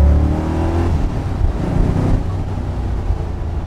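A Superformance-built 1965 AC Cobra Mk III replica, a 2007 build, rumbles with a deep, steady V8-style engine note, loud and close, with a brief swell in revs partway through and no voices.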